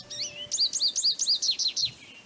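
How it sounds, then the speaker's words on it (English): American goldfinch call played from a cassette in a Nancy Drew video game: a rapid run of about nine sweet, twittering chirps, clear and close against a faint background hiss. "Bird calls. American goldfinch."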